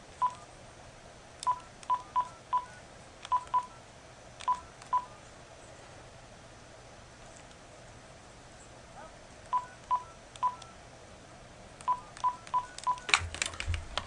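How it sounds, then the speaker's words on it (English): Telephone keypad tones entering a PIN to dial into a conference call: clear separate beeps in short clusters with quiet gaps between, steady and close, with no speech. "find my pin there, and dial in here"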